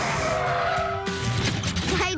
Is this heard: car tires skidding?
yes